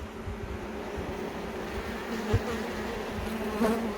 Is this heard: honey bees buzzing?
yes